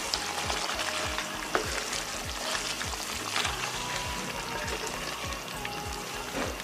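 Chicken karahi seasoned with black pepper, ground cumin and coriander is stirred in a hot pan, a steady loud sizzle of frying broken by regular rhythmic scrapes of the spoon, no voices.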